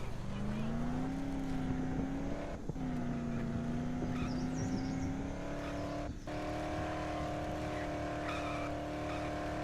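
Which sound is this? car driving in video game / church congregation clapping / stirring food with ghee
car driving in video game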